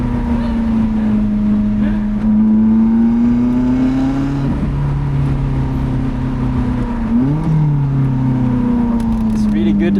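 A Lotus Elise engine on a spring mountain drive drops and climbs in pitch as the car brakes and downshifts, with sharp blips between gears, loud and close from inside the car amid road and wind rush.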